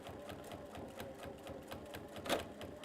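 A sewing machine with a walking foot stitches steadily, its needle producing a fast, even rattle of clicks at moderate volume, with one slightly louder knock near the end and no talking.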